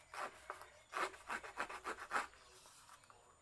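Repeated rasping strokes roughening folded card stock for a vintage pocket card, about eight rhythmic rubs, close and fairly quiet, with no talking.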